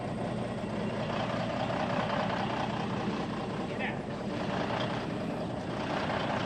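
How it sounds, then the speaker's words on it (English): A truck engine idles steadily and close by on a hay field where a trailer and mower are stuck, a continuous low rumble running unbroken throughout, with faint voices underneath. "I think we're gonna turn the truck off."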